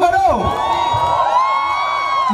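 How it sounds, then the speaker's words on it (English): Concert crowd cheering and whooping loudly with shouts and sustained high voices, a dense roar holding steady throughout. "tum log cheer to karo"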